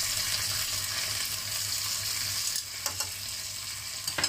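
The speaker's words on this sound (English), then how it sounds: "fry the garlic" Chopped garlic sizzles steadily in butter in a frying pan, a loud continuous frying hiss with a few sharp clicks and stirring knocks near the end, with no voices.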